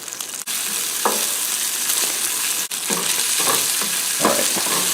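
Butter sizzling and frying in a pan on the stove alongside olive oil as a pre-made breakfast burrito filling is heated, a steady loud crackle with stirring scrapes throughout, no talking.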